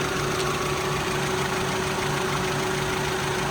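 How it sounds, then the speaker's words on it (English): Overhauled 2001 Honda Prelude engine idling in the engine bay, a steady, even mechanical hum heard up close with no voices. "Engine bay running smoothly."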